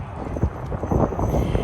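Hooves of a team of Clydesdale horses clop on pavement at a parade show in Salado, Texas. The quick overlapping beats sound close and keep up a steady rhythm throughout.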